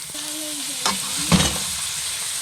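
Ground pork frying in a pan, a steady low sizzle with a couple of sharper scraping stirs of a spatula, close and alone, with no talking.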